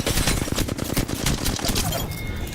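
Dense rapid gunfire in Apex Legends, a fast rattling stream of shots emptying a magazine, loud and close throughout.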